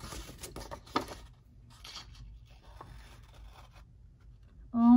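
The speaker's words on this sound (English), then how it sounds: "Already starting to cut the page." Scissors cut into a paper page of a planner, with short scraping snips and rustling paper close to the microphone, quiet and intermittent, ending in a louder burst.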